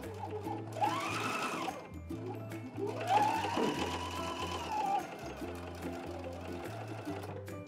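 A sewing machine fitted with a flat felled seam foot stitches a seam in a steady, whirring run. Its motor pitch rises and falls as the speed changes, and the sound stays close and fairly quiet throughout.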